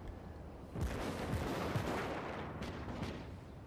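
Naval gunfire in the World of Warships game, heavy booming cannon salvos with several overlapping blasts and a sustained rumbling roar, loud and continuous with no talk.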